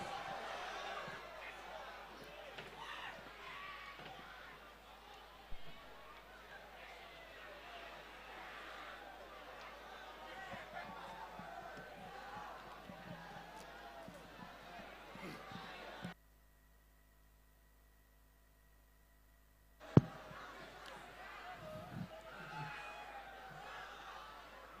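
A festival crowd cheers and whoops for a band on stage, a broad wash of distant voices with a few sharp bangs, briefly dropping to near silence before the noise returns.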